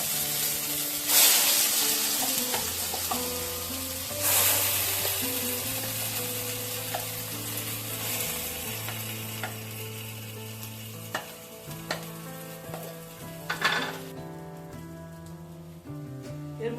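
Amla dropped into hot ghee in a pan while making homemade digestive candy: a loud sizzle bursts out at each addition, then a steady frying crackle with scraping stirring strokes and a few knocks of the spoon.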